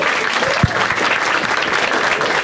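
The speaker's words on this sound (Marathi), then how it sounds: "एकदा टाळ्या होता त्या दोघांसाठी" An audience at a Marathi stand-up comedy show claps loudly and continuously, with one sharp thump standing out early in the dense applause.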